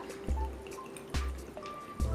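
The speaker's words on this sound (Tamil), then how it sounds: "அடுப்பை ஆன் பண்ணிவிட்டு புளிச்சக்கீரை இருக்க பாத்திரத்தில் தேவையான அளவுக்கு தண்ணி ஊற்றிக்கோங்க" Three separate watery splashes and plops as water is poured into a cooking pot of sorrel leaves, spaced about a second apart, close and soft in a quiet room.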